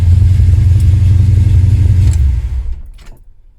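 A 1976 Dodge Aspen engine idles loud and close with a steady low rumble, then cuts off and falls silent near the end, with a faint rattle after.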